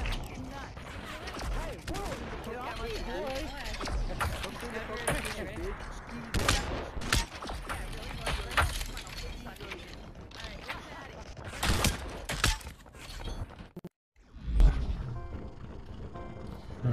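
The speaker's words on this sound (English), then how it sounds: "I hope you feel that, because you're shooting at me now." Rapid bursts of gunfire from the VR shooter Population: One, loud and dense throughout, with voices talking over the shots and a brief dropout near the end before the shooting resumes.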